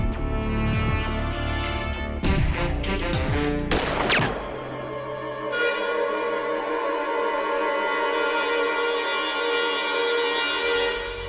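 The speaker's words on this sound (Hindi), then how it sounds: "और गोली चलाओ।" A gun fired during a courtroom demonstration, a sharp blast and burst landing over a loud, dramatic music bed, with sustained music ringing on afterward.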